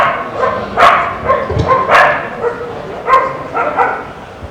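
Several dogs barking in repeated sharp bursts, loud and close, with irregular rhythm and some yips between barks.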